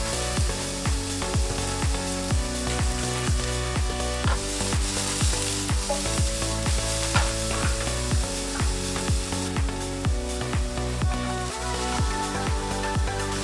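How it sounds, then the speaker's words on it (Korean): Loud, continuous sizzling of blanched vegetables stir-frying in a hot pan over high heat, with rhythmic scraping and tossing sounds throughout and no voices. "다 데쳐진 야채를 센 불에서 살짝 볶아줍니다."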